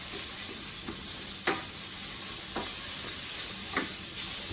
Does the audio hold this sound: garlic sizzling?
yes